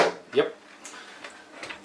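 A self-closing kitchen drawer in the galley of a Linssen 40.9 AC boat slides shut with a soft thud, followed by faint light knocks and rattles in a quiet interior, with a voice speaking over it.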